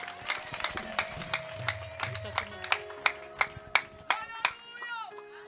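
A church congregation at an ADEPR prayer service claps in a steady, loud rhythm of sharp hand claps, with sung or spoken voices underneath.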